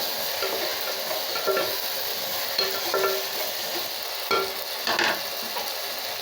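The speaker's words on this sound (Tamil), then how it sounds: "காளானை போட்டு நல்லா வதக்கலாங்க" Mushrooms sauté in a pan for mushroom biryani: a continuous close sizzle with occasional stirring scrapes and clicks of a spoon against the pan.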